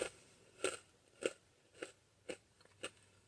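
Whoppers malted chocolate balls being chewed close up, six crisp crunching bites in a steady rhythm, faint and alone.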